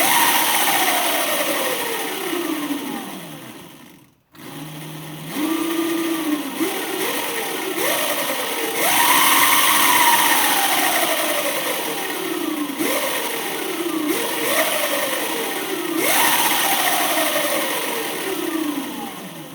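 An upgraded Razor e200 electric scooter motor whining under throttle, loud and close, in repeated bursts where the pitch climbs and falls, with one brief cutout early on.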